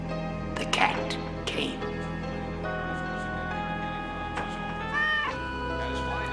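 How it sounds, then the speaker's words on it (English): A cat meows and yowls several times in a dark anthology drama, sharp close cries over a low droning musical background. "Then the cat came."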